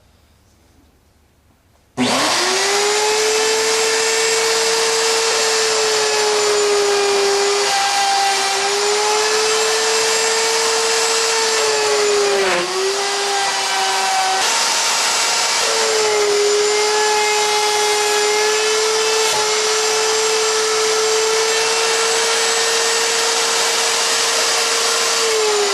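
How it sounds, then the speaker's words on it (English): A horizontal slot mortiser with a boring jig cuts into a clamped piece of red oak, giving a loud, steady motor whine with a high-pitched tone. It starts abruptly and runs continuously for about 24 seconds, with slight pitch dips as the bit loads up. "here's a look at the boring jig in action. Got a piece of red oak clamped up on the table."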